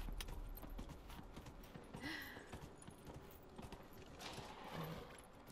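Faint, rapid clip-clop of horse hooves in Dragon Age: Inquisition trots along under a low background wash, steady and continuous.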